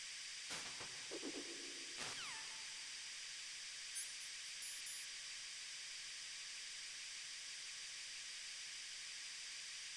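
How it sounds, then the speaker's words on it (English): A steady hiss from the air cleaner in a lab entryway in Metal Gear Solid, the PS3 HD version, runs continuously, with a few sharp electronic blips and tones near the start. "That's an air cleaner for blowing tiny particles of dust off people's bodies before they enter the lab."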